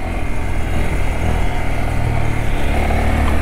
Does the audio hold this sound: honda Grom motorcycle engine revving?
yes